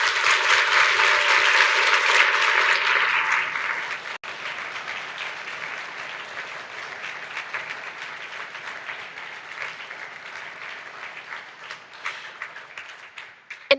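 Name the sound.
applause for everyone at the GYPT fights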